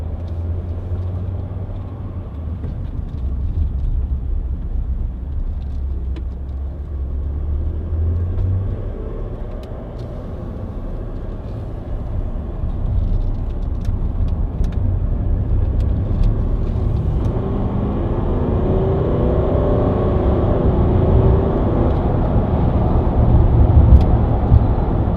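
A Range Rover 4.4 TD V8 Westminster drives on, its diesel engine giving a steady low rumble from inside the cabin that builds and grows louder toward the end, with no talking.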